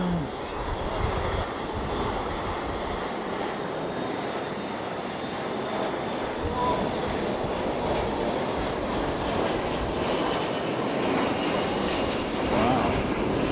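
A passenger airplane takes off at Fukuoka International Airport in Japan, its jet engines a steady, broad roar that holds loud and continuous throughout, with faint voices beneath.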